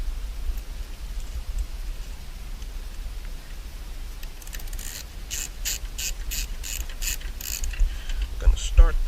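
Screws going back into interior trim on a Chevy SS sedan, a quiet run of quick ratcheting clicks from a hand tool, fairly close, over a faint background hiss.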